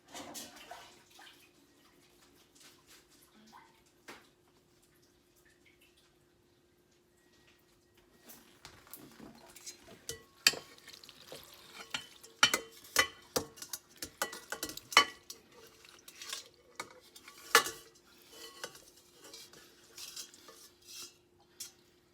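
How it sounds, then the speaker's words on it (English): Dry macaroni tipped into a bowl and stirred for a macaroni salad, first quiet, then a run of close, loud clinks, clatters and scrapes of spoon against dish. "let's start our macaroni salad by, of course, adding macaroni."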